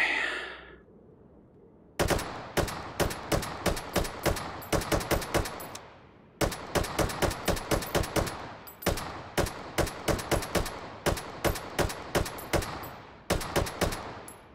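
Full-auto rifle fire in the VR shooter Hot Dogs, Horseshoes & Hand Grenades: loud, close, rapid sharp shots in several long bursts separated by brief pauses, with no talking over them.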